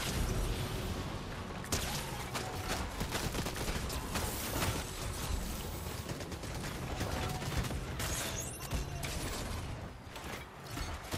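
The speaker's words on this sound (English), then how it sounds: "I'm getting shot at by real guys." Gunfire in a driving video game where other players are shooting, rapid bursts of shots crackling over a dense, busy game soundscape, fairly faint and continuous throughout.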